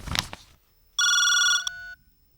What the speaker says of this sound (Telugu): ఫోన్ కూడా రింగ్ అయింది.